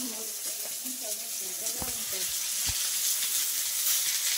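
Cumin seeds and onions frying in a pan while making chicken at home: a steady close sizzle with a couple of sharp pops and faint stirring, a voice murmuring briefly early on.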